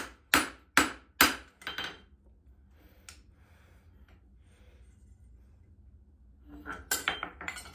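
Four loud, ringing hammer blows forging steel on the horn of an anvil, shaping a square-toe horseshoe, then a quiet pause, then a quick burst of lighter strikes near the end.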